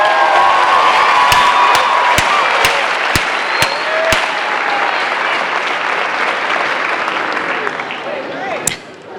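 A graduation crowd at Roseville High School's 2017 ceremony bursts into loud, sustained applause with cheering and scattered whoops, punctuated by a few sharp slaps, slowly thinning toward the end.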